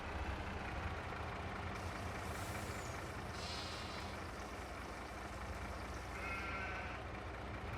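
Sheep bleat a couple of times in the video game Farming Simulator 22 over a steady low rumble of farm machinery, the calls fairly faint and separated by a few seconds.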